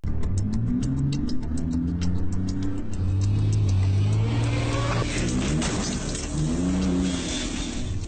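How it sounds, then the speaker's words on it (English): A car driven into a crash test at 60 km/h with test dummies inside, its engine roaring steadily and loudly throughout, with sharp rapid clicking at the start and a burst of noise near the middle. "His team is going to crash it at 60 kilometres an hour with test dummies inside"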